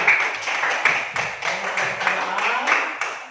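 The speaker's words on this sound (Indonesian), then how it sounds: "Berikan tepuk tangan yang meriah untuk kelompok 4" A classroom audience claps for student group 4, producing a dense, sustained patter of many hands that swells and dips over a few seconds with no talking.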